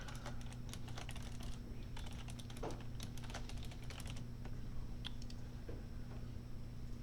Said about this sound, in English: Type the right password.